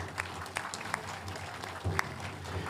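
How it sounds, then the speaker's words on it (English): A gathering at an annual assembly gives modest, fairly quiet applause to two election officials, scattered clapping with a few louder individual claps over a low hum of room noise. "Let's give them a round of applause."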